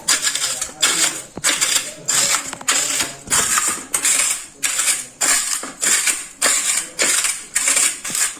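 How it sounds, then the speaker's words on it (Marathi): An electric grinder pulverizes edible gum (dink) finely for ladoo, running in about a dozen short, loud, rattling pulses with brief pauses between them and no talk. "आता हा डिंक मी वाटून बारीक करून घेणार"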